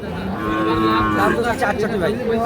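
A Sahiwal bull calf about eight or nine months old gives one loud, drawn-out moo close by, its call rising and wavering before trailing off.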